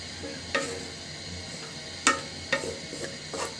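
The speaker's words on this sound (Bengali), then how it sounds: "এবার সবজিগুলোর সাথে মাখিয়ে নিব।" Tomatoes stirred into vegetables in a frying pan, a few sharp scraping clicks of a utensil against the pan over a low sizzle, close and fairly quiet.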